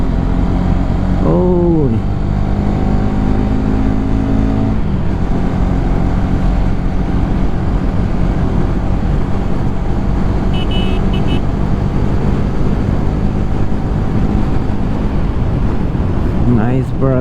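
A Hero Karizma XMR 210 motorcycle rides steadily up an incline, its engine humming continuously close by amid road and wind noise, with people talking over it.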